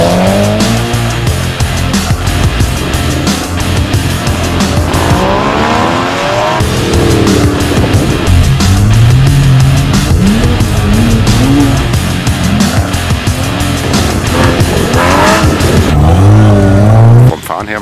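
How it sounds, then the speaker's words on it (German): A car engine revs and surges repeatedly, tires squealing through turns at close range on a wet handling course, with people talking over the driving. "Jetzt auf Nasshandling-Kurs, der Jonas fährt mein Auto"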